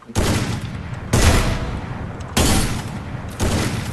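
Heavy, loud bursts of rapid gunfire in game audio, four dense volleys in a row, each starting abruptly and sustaining before the next.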